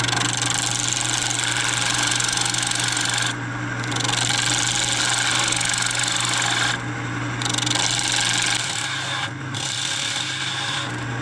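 A woodturning lathe flattens the bottom of a small scrap-wood dish, a steady loud scraping rasp over a constant motor hum, broken by a few brief pauses where the tool lifts away.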